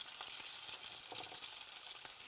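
Meatballs frying in a pan, a steady crackling sizzle with faint stirring taps, close and even throughout, with no talking.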